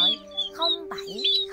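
Recorded munia (Chim Ri Đá) song used as a bird-trapping lure, thin high chirps and short twittering phrases over a steady hum, heard close and clear.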